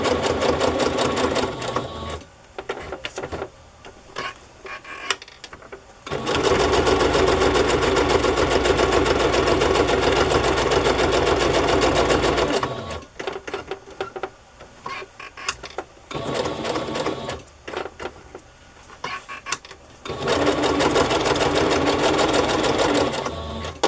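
A sewing machine runs a straight stitch in loud, steady bursts of rapid whirring, stopping and restarting several times with quiet gaps between runs.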